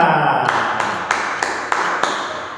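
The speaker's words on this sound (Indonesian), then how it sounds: "Beri tepuk tangan untuk kita semua." Applause in a primary school classroom, a short burst of clapping that settles into about six sharp, evenly spaced claps, close and fairly loud.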